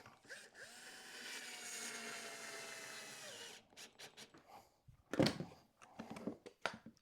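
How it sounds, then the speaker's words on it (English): A power drill driving screws into a wooden block, one sustained whirring run of about three seconds followed by several shorter bursts and clicks, close but moderately quiet. "That's enough to hold it while I just put the screws in."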